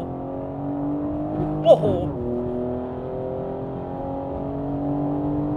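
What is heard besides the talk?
BMW M4 engine accelerating on public road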